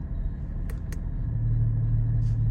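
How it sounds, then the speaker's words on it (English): Porsche 718 Cayman GT sports exhaust giving a low, steady engine rumble heard from inside the car, swelling slightly louder partway through with a couple of faint clicks. "sports exhaust. You can hear the tones change of the car."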